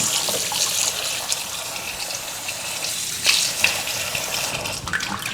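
Tap water runs steadily into a kitchen sink as meat is rinsed in vinegar water, a continuous close splashing flow with a few brief clatters.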